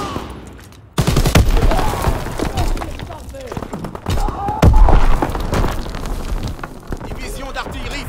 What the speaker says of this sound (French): Division d'artillerie, feu.